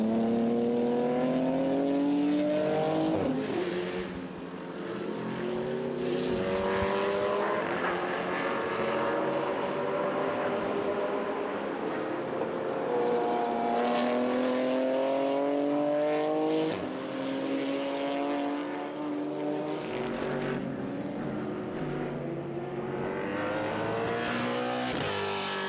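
GT4 race cars dueling on the Hungaroring circuit during an endurance touring car event, engines revving hard and shifting through gears, with several rising and falling engine notes overlapping at steady, loud volume throughout.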